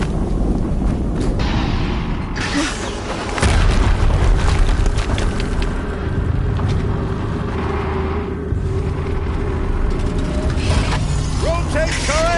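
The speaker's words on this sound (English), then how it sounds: "Another explosion." Explosions booming in a tank combat game, with heavy broadband blasts and rumbling roughly midway, over a continuous dense background of battle noise and machinery.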